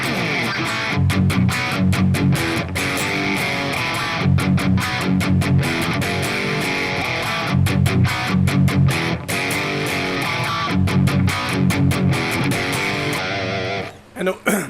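Electric guitar through a Marshall-style amp set to low gain with mild crunch, chords strummed in rhythmic bursts, loud and close, continuous until a brief pause near the end.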